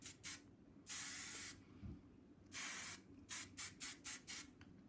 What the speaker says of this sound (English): I'm going to spray the bun first.